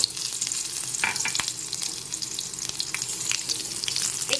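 Hog plum pieces fry in oil with tempering spices, giving a continuous close hiss and crackle, with a few brief stirring scrapes over the steady sizzle and no voices.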